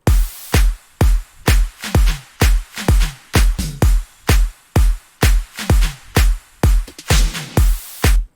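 Future house drum loop with punchy kicks and snappy hits in a steady, driving four-on-the-floor groove, with sharp transients repeating evenly throughout. Loud and dry, with no voices.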